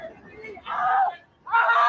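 A man's loud, strained yell from a replayed sports broadcast, in two sustained bursts separated by a brief dip, over crowd murmur.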